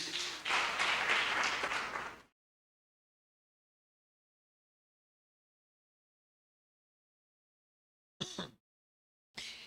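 A church congregation applauds in a dense burst of clapping for about two seconds, cut to silence, followed later by two brief fragments of clapping.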